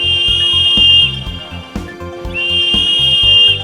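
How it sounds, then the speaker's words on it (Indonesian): A shrill safety whistle from a Sikorsky S-76C++ helicopter life vest sounds in two long, steady blasts separated by a short gap, over a low tonal background. "Gunakan peluit untuk menarik perhatian."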